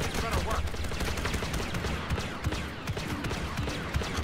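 Rapid blaster gunfire in Star Wars Battlefront 2 rattles without a break in dense overlapping bursts, loud and close, with a voice talking underneath.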